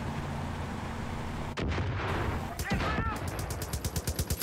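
Gunfire and explosions from the video game Far Cry 5: a steady heavy rumble gives way to loud, dense bursts of shots, ending in a rapid, evenly spaced run of reports.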